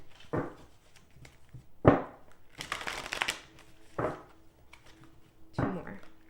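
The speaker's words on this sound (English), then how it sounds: "Let's give these a good shuffle first." Tarot cards being shuffled by hand, in several brisk bursts of riffling and slapping separated by short pauses, close and fairly soft with no talking.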